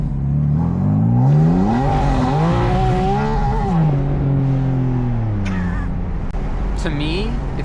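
A Porsche 718 Spyder RS engine revs up and down in race mode, its pitch rising and falling in loud, close sweeps over about eight seconds.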